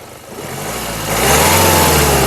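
A 2020 Kia Seltos HTX Plus engine idles, then revs up loudly and holds a steady higher roar, close by.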